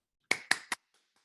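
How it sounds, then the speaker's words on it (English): Three sharp hand claps in quick succession at a town hall meeting, close and crisp, then silence. "I think that deserves a round of applause"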